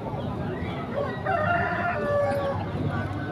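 A rooster crows once, somewhat distant, amid the noisy, bustling background of a poultry market in Muntilan, Magelang.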